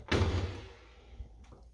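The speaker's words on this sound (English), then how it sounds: "They got a hanging cabinet over here." A hanging cabinet door in a vacation rental swings open with a close, hollow wooden thunk and a brief rattle that fades out, followed by a small knock, with no talking.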